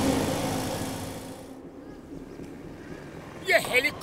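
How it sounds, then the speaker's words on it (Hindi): A cartoon helicopter gives a low, rumbling rotor whir that is loud at first and fades over a couple of seconds. A brief, sharper burst of other sound follows near the end. "ये हेलीकॉप्टर की आवाज कहां से आ रही है?"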